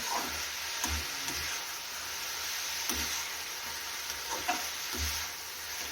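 Dried shrimp and plenty of onion with green chillies stirred and sizzling in a pan, a steady frying hiss broken by occasional soft scrapes of the spoon.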